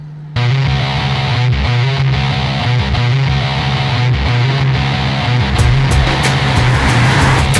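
An Audi TT Roadster driving with its top up, a loud steady engine drone with rhythmic pulsing and road noise heard close from inside the car.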